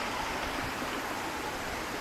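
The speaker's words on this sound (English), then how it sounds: "And ayan yung waterfall yan." Huay Keaw Waterfall near Doi Suthep in Chiang Mai roars as a dense, steady rush of falling water, loud and close, with no voices heard.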